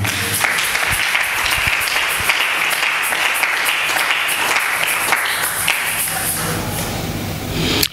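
Church congregation applauding and cheering after a scripture reading, a dense, steady wash of clapping that fills the room at full volume throughout.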